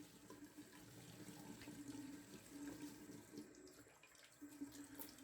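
Warm water runs steadily from a bathroom tap into a sink during a wet-shave preparation, a soft continuous faint stream with no voices over it.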